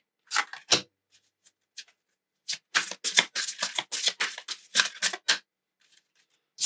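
Tarot cards shuffled and drawn in quick bursts of crisp riffling and slapping, close and fairly quiet, with pauses of near silence between bursts.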